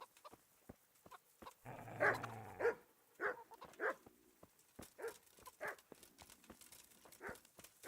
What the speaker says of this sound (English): so he's got dogs.